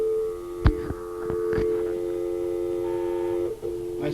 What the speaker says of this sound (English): Nice solid dial tone.